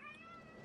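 A person's voice imitates a cat with one drawn-out, tonal meow, close and fairly quiet.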